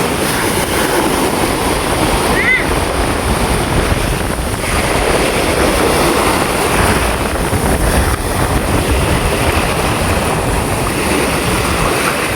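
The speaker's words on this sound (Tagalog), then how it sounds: "Ayan po, malakas po yung alon. Medyo malakas yung alon." Strong sea waves on a windy shore near moored boats, a loud continuous broadband roar of surf and wind throughout, with no distinct breaks.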